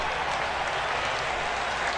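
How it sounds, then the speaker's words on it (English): Stadium crowd in a baseball video game at Sicks' Stadium, a dense, steady roar of cheering and clapping, loud and continuous with no pauses. "I'm getting crowd noise in my headset"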